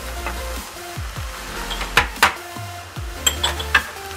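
A spoon clatters against a pan as spices are stirred into frying cherry tomatoes, cheese and onions, with faint sizzling and several sharp scraping clinks.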